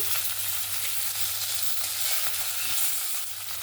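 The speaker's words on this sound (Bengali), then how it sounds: "দুই সাইড ভালো করে ভাজা হয়ে গেছে, এবার তুলে নেব" Tangra fish frying in hot oil for a spicy Bengali jhal, the fillets turned and cooked on both sides, giving a steady, close, dense sizzle with soft crackles and no talk throughout.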